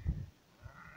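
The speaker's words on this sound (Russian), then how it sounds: "На том берегу овцы пасутся." Sheep bleating on the far bank of a river, one short low bleat at the start, distant and faint over quiet outdoor ambience.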